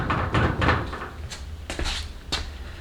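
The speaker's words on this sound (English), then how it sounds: "most of the squeak I get from the car is from this" Squeak from a 1956 Volkswagen Beetle: a few short creaking squeaks and knocks, close and fairly clear, over a low rumble.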